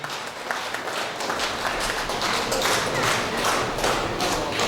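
Applause for the president at a 30th anniversary event of a public association for martyrs' families and war veterans, a dense sustained crowd clapping with some thumps, filling the room with no clear speech over it.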